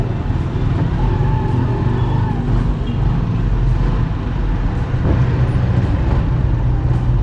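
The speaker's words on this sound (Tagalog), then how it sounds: "Right, traffic." Steady, close road traffic with motorized tricycles and cars in the Philippines, a continuous rumbling wash of engines without speech.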